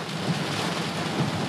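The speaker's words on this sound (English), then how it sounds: "We're driving in a storm." Heavy rain pounds steadily during a thunderstorm heard from inside a moving car, a dense loud wash of rain with low thunder rumbles swelling twice, no talking.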